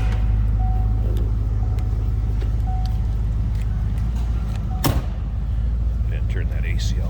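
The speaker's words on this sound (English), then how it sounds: "Get a listen to it. Good sounding car. Of course, you got V8 power plant." A 1988 Lincoln Mark VII's V8 engine idles with a deep, steady low rumble throughout, with a brief sharp clunk near the end.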